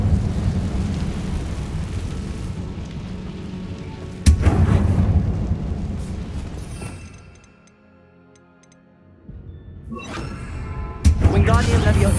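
Confringo blasting spells fire in Hogwarts Legacy, setting off two sharp, loud booms that each trail into a rolling rumble, with a quiet lull between them and a voice talking over parts.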